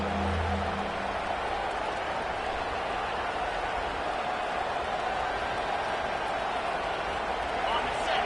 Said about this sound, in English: Here comes this home crowd as the defense tries to get off the field on third down.